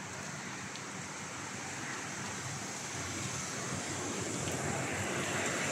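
Steady outdoor rain and wind roar through the whole stretch, a dense, even broadband wash at moderate level with no clear voices, slowly swelling slightly louder toward the end.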